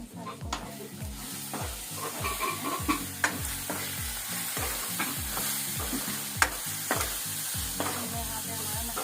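Masala spices fry and sizzle in a pan under constant stirring, a steady hiss with regular rhythmic scraping of a spoon against the metal, close and continuous with no talk.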